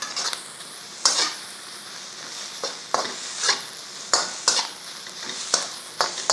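A spatula scrapes and stirs beef stir-fry with soy sauce around a hot pan, with roughly one scraping stroke per second over a soft sizzle.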